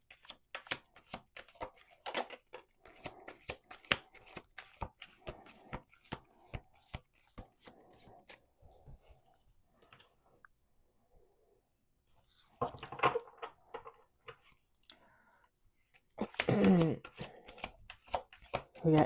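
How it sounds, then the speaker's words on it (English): A deck of cards is shuffled close to the microphone in a quiet room, with scattered crisp card flicks and two denser riffling bursts toward the end. "We're going to do 2 more shuffles."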